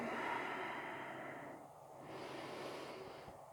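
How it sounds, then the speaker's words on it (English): Slow, deep breaths during a runners' yoga stretch, soft drawn-out inhales and exhales close by, rising and falling in two or three gentle cycles. "So we're breathing."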